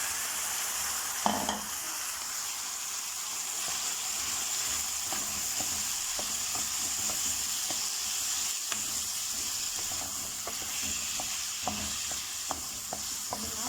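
Steady, close sizzling of food frying in a pan, with scattered light clicks and taps from stirring throughout. No voices.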